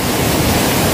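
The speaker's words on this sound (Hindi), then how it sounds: "और बहुत जोर से लहरें आ रही है," Strong ocean waves crash at Candolim Beach in Goa, a loud, dense, continuous roar of surf filling the whole moment with no voices.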